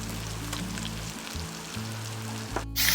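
Crushed ginger garlic paste sizzling in hot oil in a pan for Kerala-style fish curry, a steady close frying hiss with a low hum beneath, ending in a brief louder burst.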